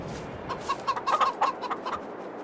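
Chickens cluck in a farmyard in Farming Simulator 22, a string of short, close clucks bunched in the middle of the stretch over a steady low background hum.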